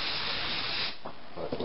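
A short hissing burst of silicone lubricant sprayed onto an old Toro lawn mower, steady for almost a second, then falling away into faint handling noises.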